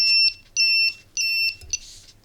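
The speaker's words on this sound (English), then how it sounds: "so we get that beeping sound" A piezo buzzer driven by a simple four-component transistor circuit gives three clear, evenly spaced electronic beeps, each about a third of a second long, then a shorter, rougher chirp, all loud and close with nothing else audible.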